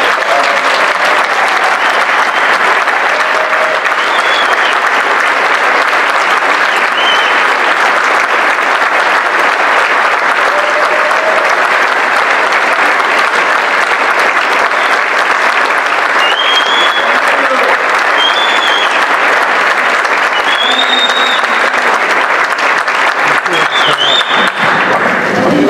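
Sustained, dense audience applause fills a press conference room in Utica, New York, welcoming Governor Andrew Cuomo; the steady clapping stays loud and even throughout without fading.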